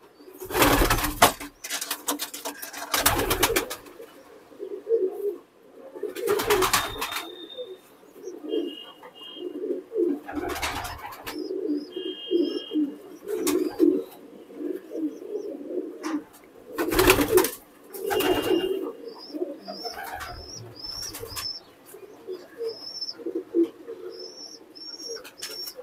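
A flock of Teddy pigeons in a loft in R.S. Pura, Jammu, keeps up continuous low cooing, broken by sharp loud knocks and clatters, with brief high chirps toward the end.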